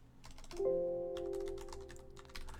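Quick clicking keystrokes on a computer keyboard, close and fairly faint, in short bursts with a faint electronic tone underneath.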